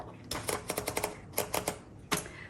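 Paper feeding into a 1935 Underwood Universal typewriter as the platen knob is turned, a run of sharp ratcheting clicks in quick bursts, close and fairly quiet.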